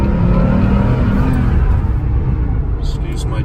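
A 1986 Porsche 930 Turbo pulling hard in first gear from inside the cabin, a loud steady engine drone and rumble that eases off near the end, with someone talking over it.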